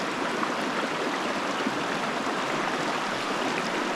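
A river in the Canadian wilderness rushes steadily around someone sitting in mid-stream, a dense, even broadband flow heard close and constant with no gaps or voices.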